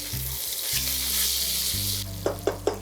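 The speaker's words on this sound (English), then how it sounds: "Stir your guanciale." Guanciale fries in a pan with a loud, continuous hissing sizzle, then three quick, close stirring scrapes follow near the end over a steady low hum, with no one speaking.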